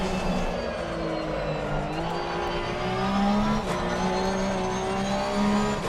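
A Porsche Cup race car engine in Assetto Corsa Competizione, racing at Barcelona or Kyalami, drones steadily and climbs in pitch through gear changes, loud and close, with faint tire noise and no talk.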